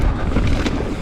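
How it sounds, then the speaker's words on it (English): Loud, rumbling wind buffeting the microphone on a mountain bike trail in Pocahontas State Park, Virginia, a steady roar with no voices. "It's real windy today."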